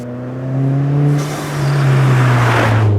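A Subaru WRX fitted with a Perrin rear subframe lockdown drives past up close, its engine note rising and falling through two loud swells with a brief gear-change dip between them.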